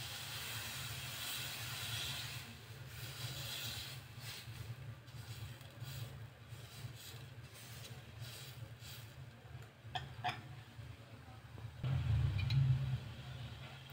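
Gram flour (besan) dosa batter sizzles on a hot tawa, a steady close hiss running throughout without talk, swelling briefly louder near the end.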